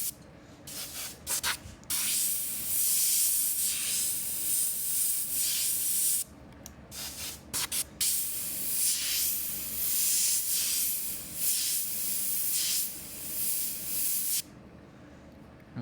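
An airbrush hisses paint onto a T-shirt in long, close bursts of airy spray, broken by brief pauses and shorter puffs.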